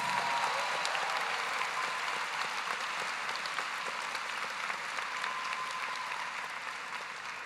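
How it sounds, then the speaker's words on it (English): A graduation audience at Pflugerville High School gives teachers and staff a long, even round of applause, a dense steady wash of clapping from a large crowd that fades slightly near the end. "Graduates and Pflugerville community, let's give a huge round of applause"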